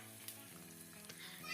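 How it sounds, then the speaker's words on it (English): An egg fries in a pan, crackling and sizzling continuously at close range, with small pops rising in intensity toward the end and no talking. "So now I'm frying an egg."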